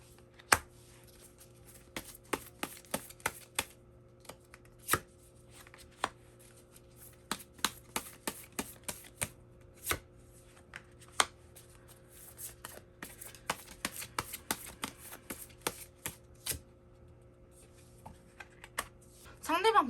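Tarot cards shuffled and drawn, giving a run of sharp, close card snaps and slaps at an uneven rhythm against a quiet room with a low steady hum.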